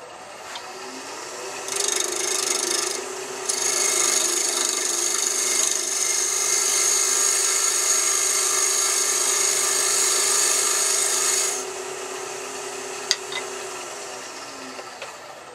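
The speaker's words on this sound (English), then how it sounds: "We're going to scrape it, shield up." A hand tool scrapes wood in a long, continuous rasping stroke that lasts about ten seconds, close and fairly loud. It then stops, and a single sharp click follows.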